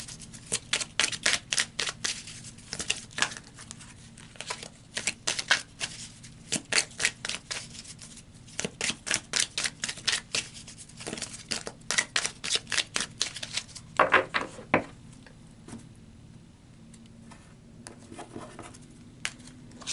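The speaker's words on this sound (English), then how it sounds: "So let's pull some more cards" Tarot cards are shuffled in rapid bursts of crisp riffling clicks, repeating in clustered rhythmic runs with short pauses between them, close and fairly quiet, with no talking.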